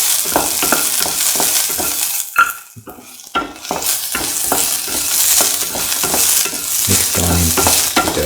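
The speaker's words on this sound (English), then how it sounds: "put in the onion pieces." Onion pieces sizzle and fry steadily in a hot pan for a stew, with repeated scraping stirs and light clinks of utensil on the pan, and a brief quieter moment partway through.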